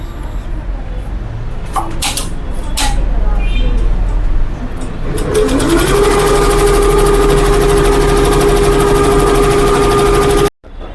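A computerized embroidery machine starts its program for cut-work and mirror-work designs, with a steady mechanical hum that rises into a loud, continuous whirring drone, then cuts off abruptly near the end.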